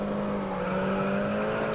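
Race car engine in the Grid Autosport touring racing game, a steady buzzing drone at moderate level holding a constant pitch over a short stretch, with no voices.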